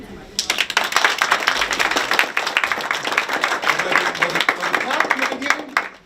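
Students at a teen police academy graduation clap for their mentor police officers, a dense burst of many hands that starts abruptly, stays loud and steady for several seconds, then tapers at the end.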